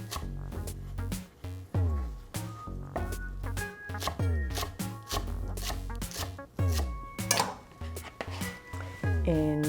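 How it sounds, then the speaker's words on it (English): Knife rhythmically chopping cilantro on a cutting board, a steady run of close, crisp blade strikes with brief pauses. "I'm going to chop up some cilantro"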